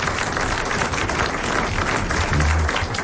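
Studio audience applause on a 1980 French television talk show, a dense, steady wash of clapping from many hands, moderately loud and continuous throughout.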